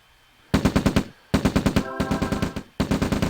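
Rapid bursts of machine-gun fire from a force fire command in the Red Alert video game, three separate volleys of sharp, evenly spaced shots with short pauses between them.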